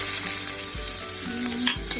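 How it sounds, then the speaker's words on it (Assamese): Onions for a chicken momo filling fry in a little oil with a continuous crackling sizzle, broken by occasional scrapes of stirring. No one speaks. "ইয়াতে মই অকণমান তেল দিছোঁ, তাৰপিছত এই পিঁয়াজ দুটা দিলোঁ"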